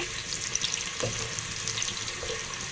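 Bay leaves fry in hot oil in a pan while being stirred, a soft, steady sizzle with a few light scraping knocks from the stirring, fairly quiet and without speech.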